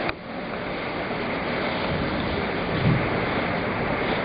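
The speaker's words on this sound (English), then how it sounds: "That was some of the strongest wind I have ever seen." Strong microburst winds roar in a steady, loud rush of broadband noise buffeting the microphone, swelling slightly partway through with no pauses.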